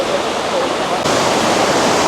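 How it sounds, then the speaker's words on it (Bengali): A waterfall in Sylhet, Bangladesh, swollen with a strong current, roars in a dense, continuous rush of broadband noise, loud and steady, growing slightly fuller partway through. "একদম উপরটা থেকে পানি পড়তেছে খুবই স্রোত"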